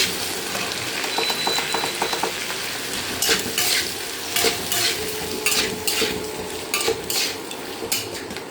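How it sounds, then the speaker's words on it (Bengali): Tomatoes and green chillies fry in a pan while a utensil stirs them, making a loud continuous sizzle broken by repeated sharp scrapes and clinks of metal against the pan, with no voices. "টমেটো দিলাম, কাঁচা লঙ্কাগুলো দিয়ে দিলাম, দিয়ে ভালো করে নাড়ব।"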